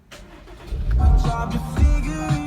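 Push-button start of a Chevrolet Camaro RS with a 6-speed manual: a brief starter crank catches into a loud engine that settles into a steady idle, with small revs rising and falling, close up.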